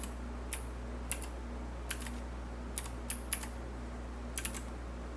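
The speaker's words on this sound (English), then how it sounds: "I'm having a hard time typing." Sparse keystrokes on a computer keyboard, about a dozen crisp clicks in small irregular bursts, close but quiet, with no talking.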